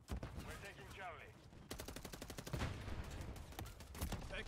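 Automatic gunfire in a Modern Warfare 3 multiplayer match, with an MCW assault rifle firing rapid bursts amid ongoing battle noise and game voice callouts, fairly quiet overall.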